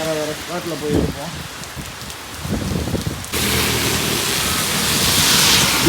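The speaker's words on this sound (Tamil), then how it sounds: "பீச் ரோடு கண்ணகித்தலை பக்கத்தில் இன்னும் காட்டுது இந்த மழை." Heavy Cyclone Fengal rain near the Kannagi statue on Beach Road, Chennai: someone talks over a softer rain hiss at first, then the downpour jumps to a loud, continuous roar for the rest.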